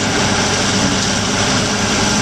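An old ten-year-old tractor with nearly 7,000 hours runs a Roto Grind hay grinder, giving a loud, steady engine drone with a dense mechanical roar that holds constant without letup.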